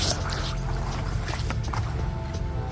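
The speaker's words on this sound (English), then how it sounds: "This is me just cleaning out my little water fountain." Water drips, splashes and squishes while a small garden water fountain is cleaned out, close up, with irregular wet sounds over a steady background.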